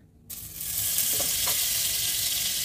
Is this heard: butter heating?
yes